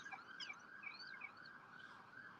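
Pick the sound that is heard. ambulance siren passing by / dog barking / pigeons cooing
ambulance siren passing by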